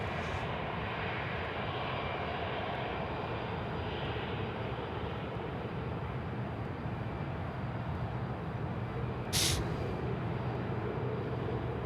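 A fixed-wing airliner at Sydney Airport at night gives a steady, broad engine roar that fills the whole stretch at an even level, with one brief sharper burst near the end.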